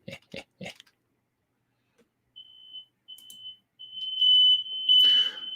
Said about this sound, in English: Oh, and I got the fire alarm going on here.